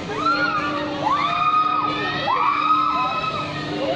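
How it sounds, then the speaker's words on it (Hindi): Riders on a swinging thrill ride at Adventure Island amusement park in Rithala, Delhi, let out repeated rising-and-falling screams, several overlapping shrieks in waves, heard from the ground at moderate distance over crowd ambience. "ये देखिए आपको चीखें सुनाई दे रही होगी,"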